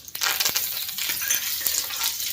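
Cumin seeds and curry leaves hit hot oil in a pan, giving a loud, bright sizzle and crackle that starts with a few sharp pops and keeps spitting steadily.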